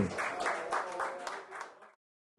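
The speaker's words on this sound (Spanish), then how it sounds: "Bravo, aplauso para Irving Ibarra." A short burst of audience applause at a twentieth-anniversary celebration event, dense clapping from a crowd that holds for about two seconds before cutting off abruptly into silence.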